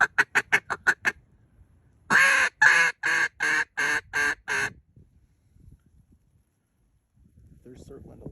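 Ducks quacking loudly in two rhythmic series of repeated calls, a short quick run followed by a slower, stronger string, in a flock circling on a windy November day, with faint wind and rustling afterward.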